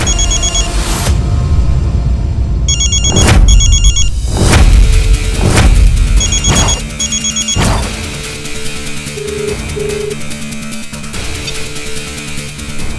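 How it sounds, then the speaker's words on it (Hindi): A telephone rings in repeated electronic bursts amid loud, busy music and sharp impacts, continuing through the whole stretch with no talking. "आपका फोन बज रहा है?"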